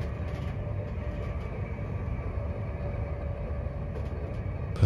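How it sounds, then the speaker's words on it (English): Steady low rumble of a train in motion during a journey, a continuous rolling drone with faint clicks, heard from inside at even loudness throughout. "Perhaps even the sounds that the train makes disappear as your mind settles down."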